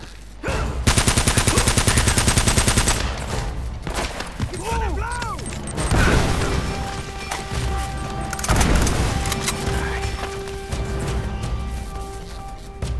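Gunfire in Uncharted: Drake's Fortune Remastered: a rapid automatic burst rattles loudly at the start, followed by scattered single shots, booming impacts and lingering ringing tones amid ongoing firefight noise.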